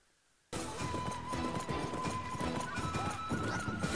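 Hooves clip-clopping at a quick gallop, with a horse neighing, in the video game Sengoku Basara 3. The sound stays loud and steady throughout over busy game audio.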